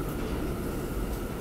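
An R160A Z subway train rumbles at Myrtle Avenue station, a steady low roar of wheels and motors filling the whole moment without any voices.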